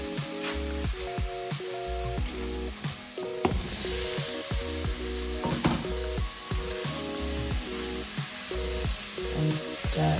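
Mushrooms sauté in a hot pan for beef stroganoff, giving a steady loud sizzle and crackle that runs throughout, with occasional stirring taps and scrapes and no talking.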